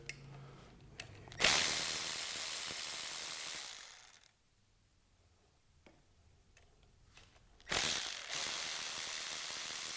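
A bolt is loosened and removed from the accelerator pedal position sensor on a 2004–2008 Honda/Acura TSX or Accord, with bursts of ratcheting wrench clicks separated by a quiet pause.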